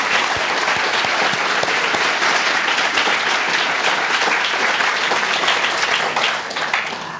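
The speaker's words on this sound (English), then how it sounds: "let's give George a round of applause" Loud, continuous audience applause at the end of a library speaker-series presentation, a thick wash of many hands clapping for about seven seconds before tapering off.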